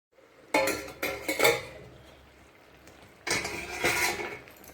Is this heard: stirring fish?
yes